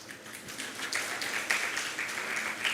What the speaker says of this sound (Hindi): भैया ताली मत बजाओ